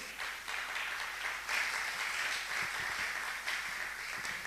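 A church congregation applauding the Lord during a sermon, steady dense clapping throughout, moderately loud with slight swells, no talk over it.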